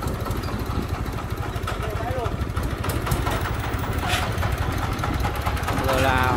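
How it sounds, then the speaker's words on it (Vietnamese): A motorbike engine runs steadily nearby, running low on fuel, its loud throbbing drone continuous throughout with some background noise and a brief whistle-like tone near the end. "chiếc xe máy của mình hiện tại đang sắp là hết nguyên liệu các bạn nhá"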